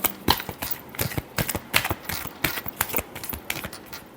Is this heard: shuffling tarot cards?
yes